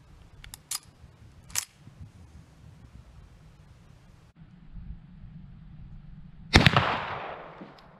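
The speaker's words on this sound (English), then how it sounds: "we'll shoot this 73. Okay, so this is an extra length 30 inch barrel 1873." A Winchester 1873 lever-action rifle with an extra-length 30 inch barrel fires one loud sharp shot near the end, preceded by faint clicks and quiet outdoor ambience.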